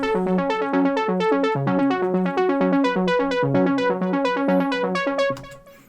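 Dry trance synth line from the Synth 1 plugin, with no effects, playing a busy rhythmic pattern of plucked chords and a shifting bass line. It sounds loud and steady, then cuts off near the end with no one talking.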